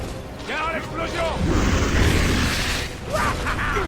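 A rumbling explosion rolls through a busy Gears of War 3 soundscape, deep and sustained, with a voice speaking over it.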